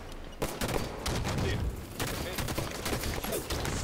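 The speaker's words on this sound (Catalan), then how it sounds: "És que hi ha hagut dos trets" Rapid gunfire from the video game Halo 5 Guardians, with repeated shots and bursts running loudly through most of the stretch, dense and overlapping, with a brief quieter gap near the start.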